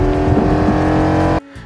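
Car engine roaring loudly during a car chase in a film, a steady dense drone with a brief tire-like scrape, then cutting off abruptly to a quieter tail.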